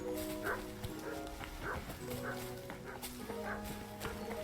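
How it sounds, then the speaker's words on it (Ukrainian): A dog barks repeatedly at a steady pace in Kingdom Come: Deliverance, moderately close and fairly quiet, over a continuous outdoor background with faint hoofbeats. "Десь іначе зверху гавкає"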